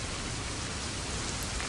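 Heavy rain pours down in a dense, steady hiss, close and loud, with no pauses and no voices.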